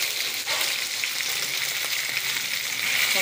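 Pieces of taro (seppankizhangu) fry in oil with a constant close sizzle and soft crackling, steady and unbroken, no voices.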